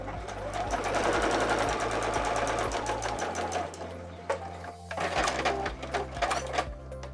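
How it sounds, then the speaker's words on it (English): A sewing machine runs a straight quarter-inch seam on a zipper pouch, its rapid even needle clatter and motor hum close and steady, pausing briefly midway before resuming in short runs. "Once again, I'm just sewing straight down."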